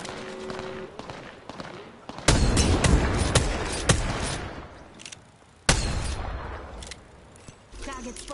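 Gunfire in the video game BoomBoundry rattles in heavy volleys with sudden loud onsets and booming impacts, sustained for stretches, as game voice lines speak over the shooting.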